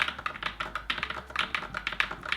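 Fast, steady typing on a creamy, thocky mechanical keyboard, close and fairly loud, a dense run of deep muted clacks with no voices.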